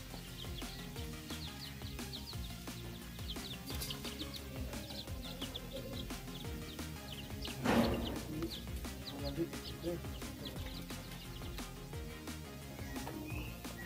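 Chickens and roosters cluck and call inside a henhouse on a farm, faint and scattered throughout, with a slightly louder flurry midway over a steady low background.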